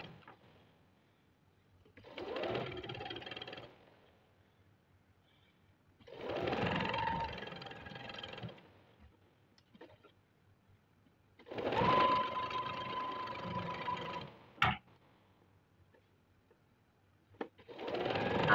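A sewing machine stitches salwar fabric in three or four separate bursts of rapid mechanical whirring, each a few seconds long, with quiet pauses and faint handling clicks between runs.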